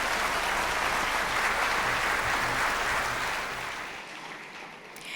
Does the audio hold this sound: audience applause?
yes